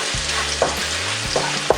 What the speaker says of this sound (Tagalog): Ngayon po ay pwede na nating igisa itong ating bawang.